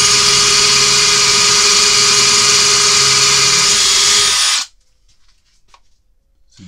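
A DeWalt percussion drill fitted with a 15 mm Parkside bit whines loudly and steadily while drilling in drill mode at speed 2, then stops abruptly, leaving near silence with faint handling noises.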